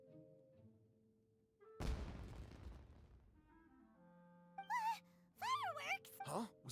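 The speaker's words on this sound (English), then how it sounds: "It sounded like fireworks." A single deep firework blast in the Genshin Impact game world, set in Inazuma, booms suddenly and rumbles away over a few seconds; low game music hums underneath, and animated voices speak afterward.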